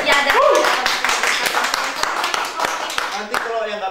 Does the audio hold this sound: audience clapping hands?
yes